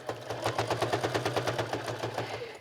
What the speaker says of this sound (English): now at the sewing machine, we're just going to stitch all the way around the outside of the wallet